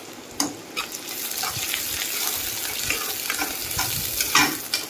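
Chopped onions fry in a pan toward golden brown, giving a steady close sizzle with occasional sharper crackles and a few scraping stirs.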